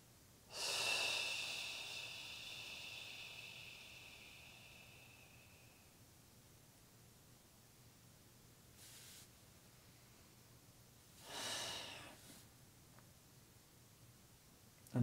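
Slow, audible breaths during a floor stretch in a pelvic floor routine: a long breath at the start, a faint one in the middle and another near the end, each standing out against a quiet background hiss.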